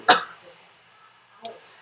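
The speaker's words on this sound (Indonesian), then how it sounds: "Mohon maaf, agak batuk" A single sharp cough bursts out loud and close at the start, followed after a pause by a smaller, fainter throat-clearing sound.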